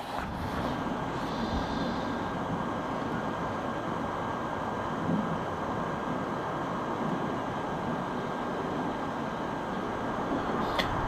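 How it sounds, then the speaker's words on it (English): Emirates Boeing 777 at the airport with its engines building power for departure, a sustained broadband roar with a thin high whine running through it, steady and moderately loud from a distance. "the 777 spool up is the best sound in the world"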